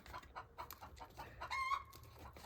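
Chickens in rural France cluck after laying an egg, a run of short, quiet clucks with a higher squawk partway through, heard faint and nearby.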